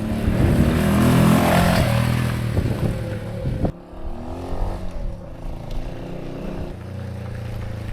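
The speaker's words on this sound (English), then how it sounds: "I can't believe he rode it without any second gear." A small Honda Cub motorcycle with an S65 engine missing second gear rides past on a dusty track. The engine buzzes loudly and close at first, then drops away sharply and fades into quieter background sound.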